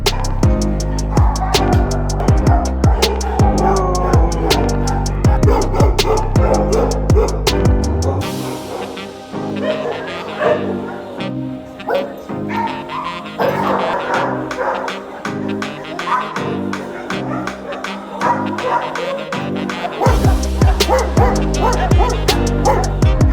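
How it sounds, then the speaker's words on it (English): A chorus of many dogs at an animal shelter barks, yips and whimpers nonstop, loud and echoing, with overlapping voices that swell and thin out before surging again. "This section houses more than 80 dogs, many of them recent rescues or animals requiring extra care."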